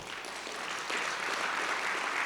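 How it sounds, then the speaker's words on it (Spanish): Audience at a medical conference on mesenchymal stem cells applauds as a doctor is introduced, a brief, dense patter of clapping heard from a distance. "Por favor, un fuerte aplauso"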